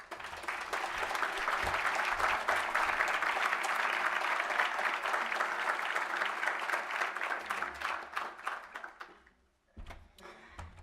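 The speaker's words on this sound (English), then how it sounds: "Let us give him a round of applause" Dense audience applause in a lecture hall for Chairman Wheeler, a long sustained wash of many hands clapping that swells, holds, then fades and drops off near the end.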